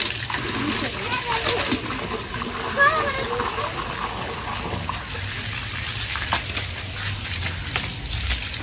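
Water from a hose pipe splashes onto a floor while cleaning in a village, a steady close spatter and gush running throughout under children and adults talking.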